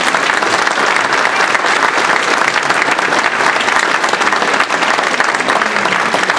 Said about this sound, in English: If everyone can give her a round of applause